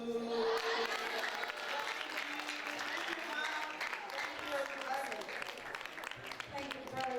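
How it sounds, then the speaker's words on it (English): A crowd claps loudly and continuously, the applause fading slightly then swelling again, with voices mixed in. "Please, a better round of applause, especially for the students"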